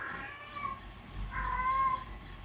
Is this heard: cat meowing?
yes